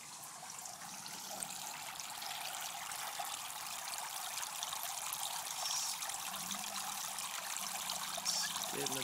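Water trickles and streams steadily through a DIY aquaponics bell siphon under test, a continuous faint wash with no voices.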